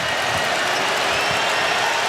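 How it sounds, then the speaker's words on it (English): A basketball crowd at the Kohl Center roars and applauds steadily through a tense late-game moment between Purdue and Wisconsin, a dense continuous wash of cheering from a large arena. "Listen to this crowd."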